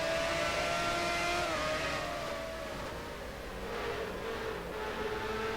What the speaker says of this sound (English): you hear him having to play with the throttle just a little bit